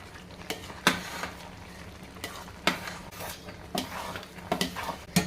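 A spoon stirs ghee and coarsely chopped split gram into a motichur laddu mixture in a pan, giving repeated scraping strokes over a soft sizzle in an uneven rhythm, close and moderately loud.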